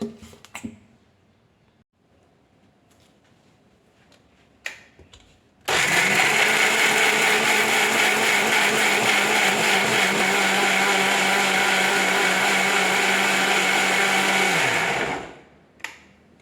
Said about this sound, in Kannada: ಈಗ ಮಿಕ್ಸಿ ಓಡಿಸೋಣ.